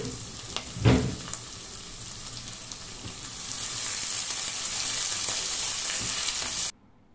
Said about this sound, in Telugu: ఉల్లిపాయలు కొంచెం కలర్ చేంజ్ అయ్యే వరకు కూడా వేయించుకోండి.